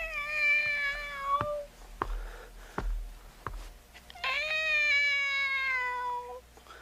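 A movie character imitates a cat with a run of convincing meows, two long drawn-out calls separated by a few sharp knocks or thumps, close and clear with no other talk.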